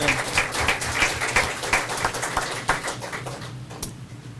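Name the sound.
round of applause at a council meeting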